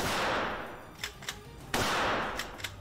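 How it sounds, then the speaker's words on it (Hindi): Rifle gunshots ring out at a shooting range inside a gun shop, several sharp cracks spaced irregularly over a loud noisy background, fairly distant. "दुकान के एक दूसरे हिस्से में बनी शूटिंग रेंज में ही वो गोलियां दागते नजर आए।"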